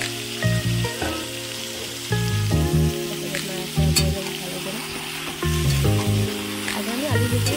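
Soybean and potato curry frying in a pan, with repeated scraping stirs over a constant sizzle, heard up close and loud. Some steady background tones are also present, and no voice speaks.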